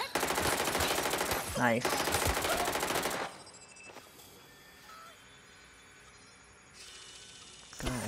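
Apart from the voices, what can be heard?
gunfire in Watch Dogs: Legion video game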